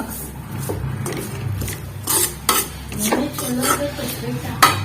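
Onion greens with chili powder are fried and stirred in a pan, with a soft sizzle under repeated scraping and clinking of a spoon against the metal, close and uneven.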